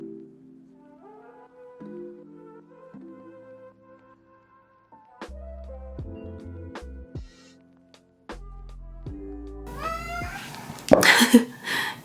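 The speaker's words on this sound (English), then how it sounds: "he starts meowing at my door" A pet cat meows repeatedly at a bedroom door, a series of separate drawn-out calls with pauses between them, growing louder and more insistent toward the end, with no talking.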